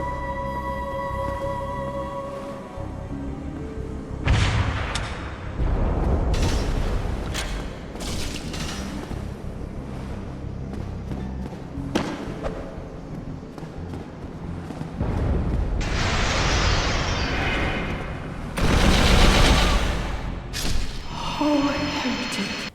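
Halo weapons, a rocket launcher and a spiker, fire and explode against a boss in Dark Souls: heavy booms and thuds in repeated loud bursts, with crackling impacts and no talk.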